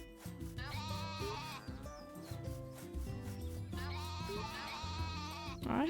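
Sheep bleat repeatedly in the farming game Story of Seasons A Wonderful Life, two long wavering calls that swell over a busy mix of background music and game sounds.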